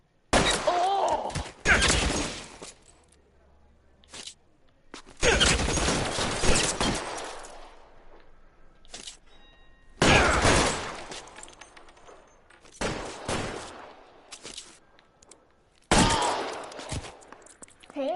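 Bursts of gunfire in the video game L.A. Noire, including a headshot, come in several loud clusters of rapid shots separated by short quiet gaps.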